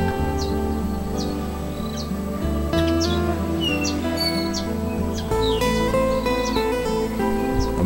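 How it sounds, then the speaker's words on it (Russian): Several birds chirp and sing in short repeated calls over a steady low hum of background noise, continuous throughout. "слышишь, птички поют"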